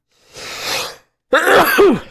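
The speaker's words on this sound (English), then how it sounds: "Oh, I'm going to sneeze." A single sneeze, with a short breathy build-up followed by a sharp, close burst.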